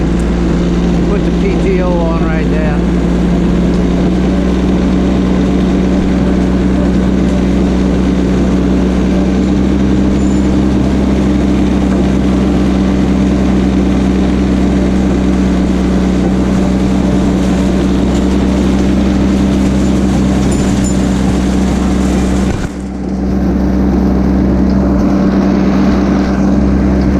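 A Mahindra eMax 22hp tractor runs with the PTO engaged, its engine droning loud and steady at close range with a constant low hum and mechanical rattle, briefly dipping near the end.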